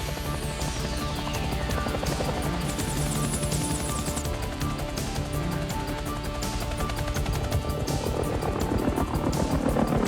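A helicopter flies during filming of the movie Cliffhanger, its loud, steady rotor chop and engine roar filling the air throughout with rhythmic blade beats and no talk.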